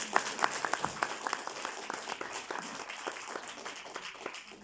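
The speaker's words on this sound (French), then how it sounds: "Donc là, je demande une salve d'applaudissements" Applause rises from a conference audience celebrating an association's thirtieth anniversary, many hands clapping with a few sharp individual claps standing out early, then settling into an even, moderately loud wash.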